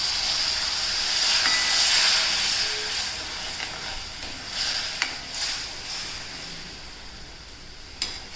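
A glassful of water is poured into a hot pan of masala and ground spice paste while cooking a green chickpea and potato curry. It sets off a loud, sustained sizzling hiss that gradually settles, with a few sharp crackles.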